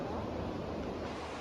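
Water rushes at Tumabo Mother Falls in San Luis, Aurora, a steady, dense roar of falling water, fairly faint and continuous, with no talk over it.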